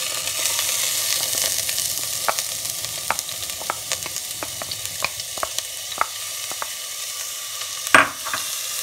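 Onion fries in hot oil in a pan for a creamy white-sauce pasta, a soft continuous sizzle punctuated by many light, regular utensil clicks and one louder knock near the end.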